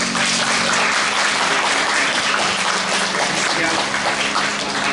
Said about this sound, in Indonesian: kita sambut dengan meriah tepuk tangan